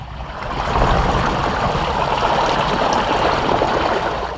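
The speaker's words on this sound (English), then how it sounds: "Most of the water inside of it will just spill over the edge" Water spills and splashes steadily over the side of a plastic boat, a close, continuous rushing trickle with no talk.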